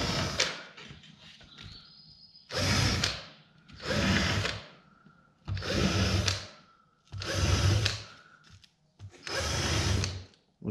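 Power drill boring holes through a template while building a Solex-based trike, five loud sustained drilling bursts of a couple of seconds each separated by short pauses, close up with no talking.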